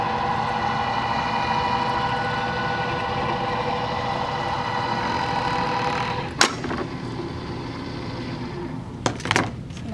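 An AccuQuilt fabric cutter runs a long 24-inch die through quilt fabric to cut 2.5-inch border strips, making a steady mechanical drone. A few sharp clacks break in near the end.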